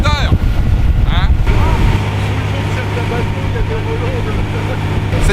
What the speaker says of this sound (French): on entend bien le moteur.